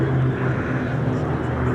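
A B-17G four-engine bomber flies past at an airshow, its propeller engines making a steady, loud drone with a low harmonic hum throughout.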